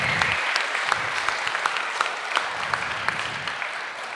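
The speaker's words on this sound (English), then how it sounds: "can we give them one more round of applause for all the work" An audience at a startup pitch night applauds the finalists, with sustained, crisp clapping from many hands and a few sharper individual claps standing out near the microphone.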